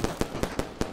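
Firecracker pops from the game Animal Well, five sharp bursts spaced a fraction of a second apart, crisp and fairly close with no one talking.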